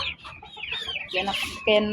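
Chickens cluck and squawk close by in a busy, overlapping chatter on a farm breeding them with an incubator, with a louder call near the end.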